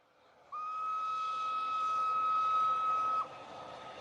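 Single sustained train whistle, one steady, clear tone held for about three seconds and then cut off, loud and alone with nothing else around it.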